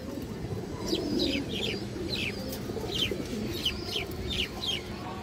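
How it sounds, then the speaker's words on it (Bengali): Pigeons kept at a breeding farm, including females, coo in low, continuous throaty rumbles while sharper bird calls repeat above them at a steady, close, moderately loud pace. "যে মাদিরা দেখেন খুবই সুন্দর কবুতর"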